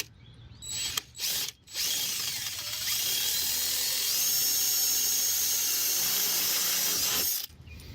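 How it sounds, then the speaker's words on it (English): A power drill whines steadily for several seconds after a couple of brief starts, drilling a hole in a steel screen door frame, its high grinding tone ending abruptly. "So we take our drill and we're gonna drill a hole right there"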